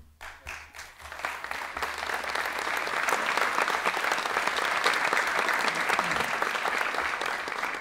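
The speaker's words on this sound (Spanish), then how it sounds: "Ese aplauso, presidente, debe ser para darle la bienvenida a la tierra del buen sol y del buen vino" Audience applause at a government press event in San Juan, Argentina: a few scattered claps at first quickly swell into steady, dense clapping from a large crowd that holds evenly throughout.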